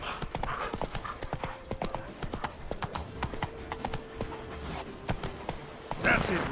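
Horse galloping in The Witcher 3, a fast continuous clip-clop of hooves close by, with someone talking over it and a short burst of other game sounds near the end.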